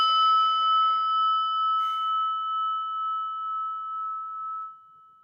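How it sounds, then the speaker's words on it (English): A single meditation bell struck once, its clear tone ringing out and slowly fading over several seconds, heard alone without speech. "let's listen to the bell"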